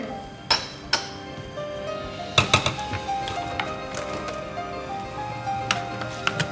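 Sharp metallic pounding strikes, a few spaced hits then a quicker uneven run, as garlic is pounded fine with a pestle in a small mortar, with faint ringing between blows.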